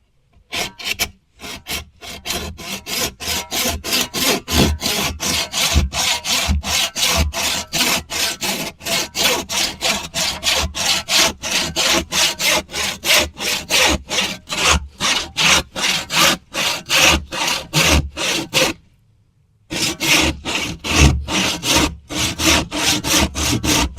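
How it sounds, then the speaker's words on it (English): A new hand saw cuts through wood on a plot in steady back-and-forth strokes, a close and loud rasping rhythm that continues for most of the time, pauses briefly, then picks up again. "I did actually pick up a new saw as well, just to see if it will help cut everything down, because I'm doing everything by hand"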